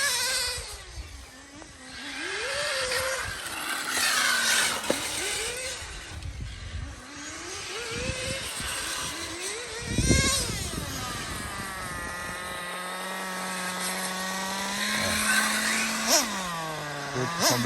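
A Colt10 RC car drives on a track day circuit, its small motor whining and rising and falling in pitch as it accelerates and slows, fairly close, with background noise throughout.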